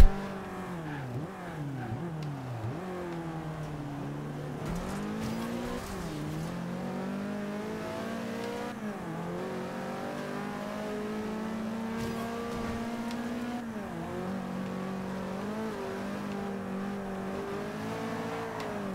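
A racing car engine in the video game Forza Horizon 2 whines loudly and continuously, its pitch sweeping up and down through repeated revs and gear shifts, with no talking.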